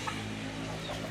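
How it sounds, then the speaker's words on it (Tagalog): A red hen clucking softly on a backyard farm, a short burst of low, muffled clucks over steady background noise, fairly close and quiet, with no talking. "tapos eto naman is manok na pula."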